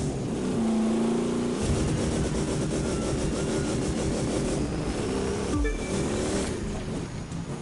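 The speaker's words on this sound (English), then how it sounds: "let's keep that ice cream truck spin around and drifting" Engine roar from an ice cream truck being spun and drifted around a race course in The Crew 2, a steady, loud droning motor with tire noise and a brief crash-like burst near the end, no talk.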